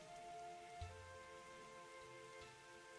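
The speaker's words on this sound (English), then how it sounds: "look, it's raining." Rain falls in the video game GudaGuda Yamatai, a faint, steady patter with a soft thump, accompanied by quiet background tones and no talking.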